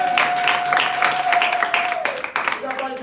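Congregation applauding during a French-language church sermon, a dense continuous wash of clapping with a sustained tone running underneath for most of the stretch.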